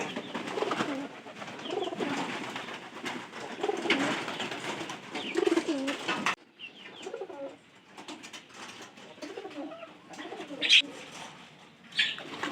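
Pet pigeons kept indoors coo in a steady, overlapping murmur of throaty calls, with a brief pause midway and occasional sharper sounds.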